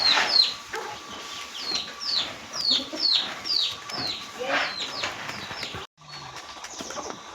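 Hens in a farmyard cluck repeatedly while grain is thrown to them in the morning, a steady run of close, rhythmic clucks with a brief dropout near the end before resuming.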